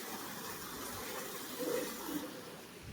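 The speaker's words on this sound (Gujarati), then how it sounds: "ત્યાંથી અંદરથી પાણી આવે છે બીજા ડારમાં." Water trickles and gushes steadily into a village farm well, flowing in from an inner channel. It forms a continuous, moderately loud rush that swells briefly midway, with no talking.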